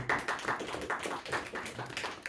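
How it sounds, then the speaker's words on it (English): Light clapping from a small audience at a panel discussion hosted in a venue, a thin, uneven patter of a few hands, fairly quiet and close, continuing briefly without talk. "if we can have like a little clap for them"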